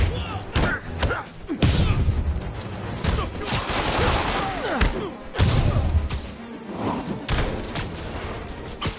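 Gunfire in a PS4 game during a chase with crooks: rapid bursts of shots and heavy thuds that come in clusters over a dense, loud mix of game sound.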